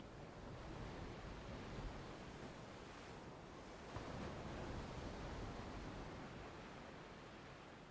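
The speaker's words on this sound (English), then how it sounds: "You can hear the ocean." Distant ocean surf rolls in a continuous soft wash, with faint wind buffeting the microphone and no voices.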